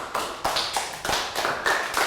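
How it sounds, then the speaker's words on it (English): A Year 3 classroom gives a short round of clapping, a few distinct claps in an uneven rhythm from a small group of children, close by. "Round of applause for Ned."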